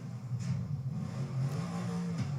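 A yellow rat rod car with chrome exhaust revs its engine in the Forza Horizon 3 racing game, a steady mid-pitched engine drone rising and falling with a few brief accents.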